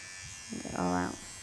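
Electric clippers buzz briefly while trimming a small Bichon Frisé's coat near the paw pads, a short close hum rising and fading in about half a second.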